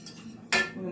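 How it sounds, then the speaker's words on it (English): A utensil scrapes and clinks against a pot while ground beef mixture for nachos is stirred, a quiet scrape followed by one sharp metallic knock midway, alone and close. "make sure I mix this up good"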